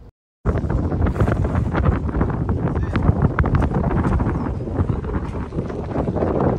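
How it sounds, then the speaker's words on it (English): Strong wind buffets the microphone on a fishing pier in Key West, a loud, continuous rumbling roar that starts abruptly and persists throughout, with faint water and boat sounds beneath. "it was a little windy, so excuse the wind"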